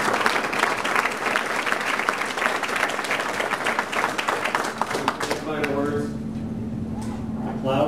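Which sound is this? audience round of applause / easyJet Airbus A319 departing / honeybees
audience round of applause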